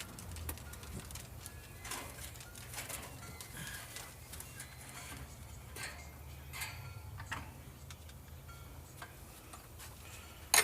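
Faint outdoor ambience from a porch overlooking a bird feeder, with soft bird calls and cooing, scattered small ticks and taps, and a low hum in the background; no talking.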